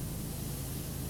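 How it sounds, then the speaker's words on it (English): Steady broadband hiss of a pressure washer jet spraying in PowerWash Simulator, continuous and even throughout, close and fairly loud with no talk. "I'm just spraying in and under there, as well as this side"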